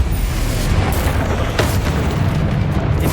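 Confringo blasting spell in Hogwarts Legacy: a loud, dense explosive boom with a rumbling, crackling tail filling the moment, close and powerful.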